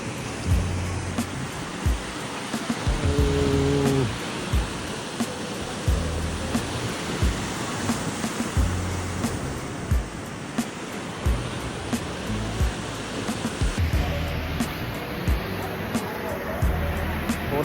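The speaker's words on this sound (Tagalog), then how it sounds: "Lakas ng alon, no?" Strong ocean waves break on the beach at San Juan, La Union, a loud continuous roar of surf with swelling crashes, while wind buffets the microphone and faint voices come and go.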